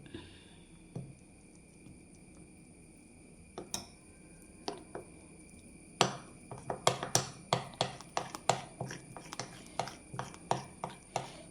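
A spoon stirs mango cake batter in a bowl. Scattered clinks at first, then quick, regular knocks against the bowl's sides, close by.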